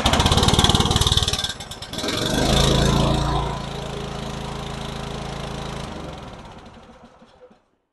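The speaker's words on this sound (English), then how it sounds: "and then use a key to start the compressor." A cold NB80 lube skid onboard air compressor engine is key-started with the choke pulled out. Loud rapid cranking turns into a surging start, then a steady running drone fades out near the end.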